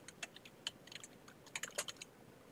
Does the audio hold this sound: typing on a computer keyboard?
yes